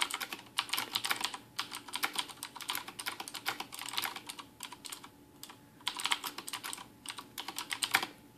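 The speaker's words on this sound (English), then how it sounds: "This is typing without bottoming out." Typing on a Rosewill tenkeyless mechanical keyboard with Cherry MX Blue switches, keys pressed without bottoming out, giving quick, light, clicky bursts of keystrokes in an irregular rhythm, close and fairly quiet.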